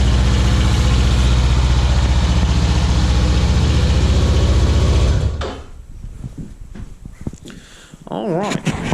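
A powersport vehicle engine idles loud and steady after a cold start, a dense mechanical rumble that cuts off abruptly about halfway, leaving quieter clicks and handling noise before a brief rise.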